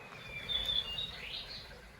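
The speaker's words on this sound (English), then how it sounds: "Got the birds, I got the whole place to myself." Birds chirping by a stream in a lush green New Zealand forest, a few high thin calls over a soft, steady wash of flowing water.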